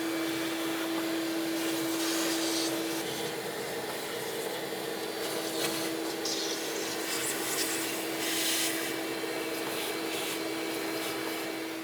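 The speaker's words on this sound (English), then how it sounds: "I'm just going to use a vacuum" A steady, moderately loud vacuum drone runs throughout with a constant whine, with occasional scraping and rattling as debris is sucked up from a Ford Transit engine.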